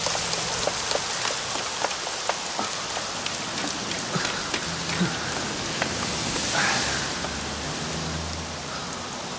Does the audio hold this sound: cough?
no